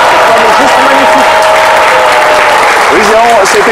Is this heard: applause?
yes